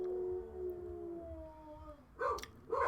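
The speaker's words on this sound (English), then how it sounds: "Doggy Sonata happening out in the hall." Dogs howling out in a hallway: a long tonal wail that slides downward and fades, followed by a couple of sharper yelps or barks near the end, moderately distant.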